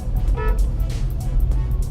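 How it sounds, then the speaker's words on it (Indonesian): A 2017 Honda CR-V 1.5 Turbo Prestige gives one short, bright honk of its horn nearby, over a steady low rumble of road and engine noise. "Terus kalau misalnya klakson, coba Dov, gimana nih?"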